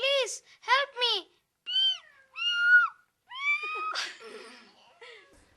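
A person imitates a cat, voicing a series of high, sliding meows one after another, close and clear with short pauses between them.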